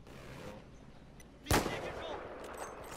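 Gunfire in the Battlefield video game, Dragon Valley map: a single sharp, loud shot stands out midway, followed by a decaying rumble over a low background din, with voices faintly present.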